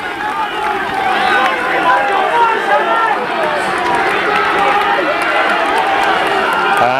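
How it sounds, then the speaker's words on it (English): Rugby crowd roaring and cheering on Highfield RFC against Shannon RFC: a dense, continuous roar of many voices at steady loudness throughout, with a commentator talking over it. "And the crowd roaring Highfield on here."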